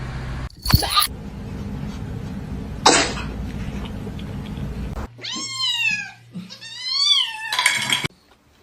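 A pet cat meows several times in a row, close and clear, with drawn-out rising and falling calls in the second half after a couple of short coughing or sneezing bursts early on.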